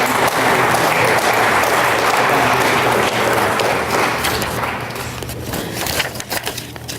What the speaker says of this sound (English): So let's give again these students a round of applause.